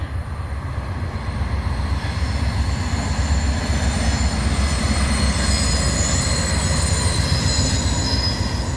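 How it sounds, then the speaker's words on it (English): A train rolls past on the tracks close by, a loud continuous rumble of wheels with metallic squealing and faint clacking, steady throughout with no voices. "Here's a train going by."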